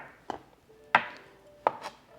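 Garlic is chopped on a cutting board in three crisp, separate knife strikes, close and clear against a quiet background.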